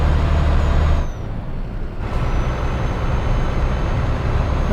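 A Volvo FH Classic truck in Euro Truck Simulator 2 drones along the open road with a steady, loud engine and road roar, briefly dipping for about a second before resuming.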